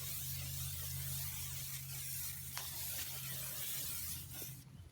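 Silicone oil sprayed steadily from a can onto a cattle guard form, a continuous close hiss lasting several seconds over a low hum before stopping abruptly.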